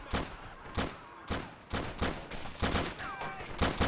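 Automatic gunfire in the video game Army Men: Plastic Wars, rattling out in repeated short bursts of rapid shots, fairly loud and close, with brief gaps between volleys.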